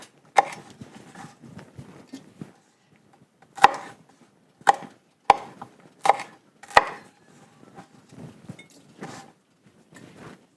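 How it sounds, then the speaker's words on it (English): A knife chops peppers on a cutting board for fermented hot sauce, with sharp close thuds coming in small bursts and pauses between them, and nobody talking. "you just need to make sure you get the green parts off, and then chop it a couple times,"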